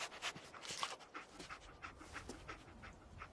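The German shepherd companion Dogmeat pants quickly and steadily in Fallout 4, a soft, close, rhythmic huffing with a faint whine, heard alone without any talking.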